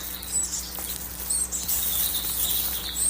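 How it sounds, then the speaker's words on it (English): Baby black-capped chickadees beg very close by, thin high squeaky calls repeating in quick, irregular bursts over a low steady background hum. "that cute little sound is a couple of, they're so close, a couple of baby black-capped chickadees"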